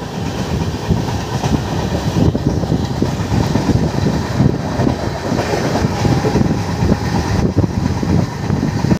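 The 12837 Howrah–Puri Express rolls steadily along the tracks with a continuous loud rumble and faint rhythmic clatter of wheels, no voices.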